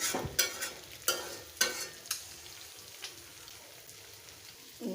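Goat tripe frying in a pan, with a steady sizzle broken by several sharp scraping stirs near the start, then a quieter continuous crackle.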